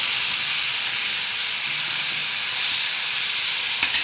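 Chili garlic fenugreek leaves sauté in a pan with a pinch of salt, a continuous close sizzling hiss holding level throughout, with a brief soft knock near the end and no talking.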